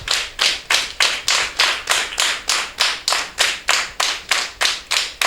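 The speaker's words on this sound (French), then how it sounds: "Applaudissez pour lui d'abord. Fort!" Loud, rhythmic clapping from a crowd at a traditional Ogboni gathering in Benin, hands striking together in a steady, even beat of about three claps per second throughout.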